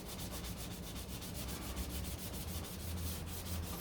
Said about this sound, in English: let's get some soapy water and get ready for some wet sanding